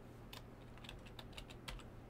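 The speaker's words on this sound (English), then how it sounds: "So here we will type in" Key taps on a computer keyboard while entering a category page name into a FileMaker point-of-sale system, a short run of light, uneven clicks over a steady low hum.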